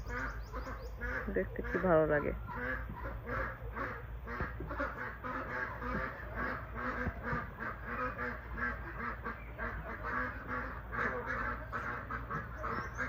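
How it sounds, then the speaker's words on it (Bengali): White domestic ducks in a rural yard quack repeatedly in a close, busy chorus that runs throughout, while a person talks over them. "খুব সুন্দর সাদা একদম হাঁসগুলো"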